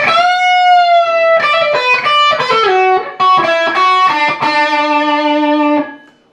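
Distorted electric guitar playing a lick from a song's solo, a sustained bent opening note followed by quick picked notes and slides, loud and close with no voices.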